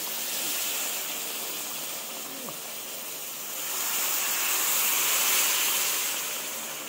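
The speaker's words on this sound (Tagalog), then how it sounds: "Maglalagay na tayo dito ng tubig." Hot water, about a litre, being poured into a cooking pot over rice flour while making vegetable kare-kare with tofu: a steady, rushing splash that swells louder toward the end.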